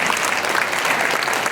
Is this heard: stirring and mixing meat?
no